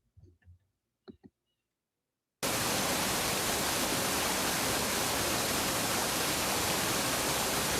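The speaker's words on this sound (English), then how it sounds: "So this is just the sound of the water playing in the background." Water running steadily in a botanical garden, a dense, even rush like a fountain or stream that cuts in abruptly after a few faint sounds and continues loud and unbroken.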